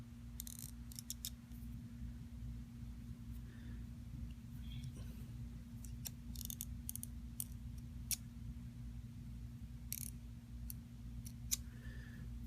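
Small scissors snip fly-tying materials while a Keel Crab Permit fly is being tied. Several sharp, irregular clips sound close up over a steady low electrical hum.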